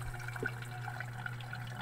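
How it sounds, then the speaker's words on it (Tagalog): Water is poured into a homemade urinal made from a cut ice cream container, producing a steady, fairly quiet trickling and splashing throughout. "lalagyan na lang siya ng tubig para hindi mangamoy"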